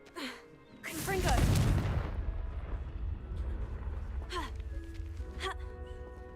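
A Confringo explosion spell in Hogwarts Legacy bursts loudly just after one second, a booming roar that decays over the next second or so, with a voice heard before and softer game sounds after.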